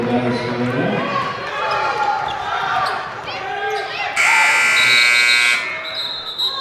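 A loud, harsh end-of-quarter buzzer blares for about a second and a half amid crowd noise and bouncing balls at a girls' high school basketball game in a gym.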